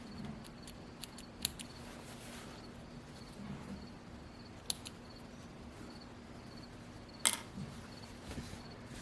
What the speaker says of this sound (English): Trim my threads.